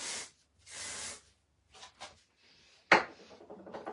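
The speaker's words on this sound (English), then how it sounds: "So dry texture spray." Dry texture spray from an aerosol can misted onto hair, two long hissing bursts followed by shorter sprays, then rustling of hair and handling sounds, close and clear.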